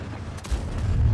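A tank cannon fires in World of Tanks, aboard an IS-3, as one deep, heavy boom with a low rumbling tail that is loud and close, with no speech.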